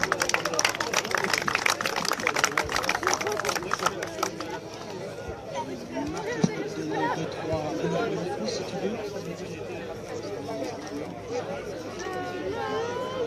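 An audience at a football club's 80th anniversary ceremony claps for Michel Bertrand, starting as a dense burst of many hands that fades away over several seconds into chatter and voices.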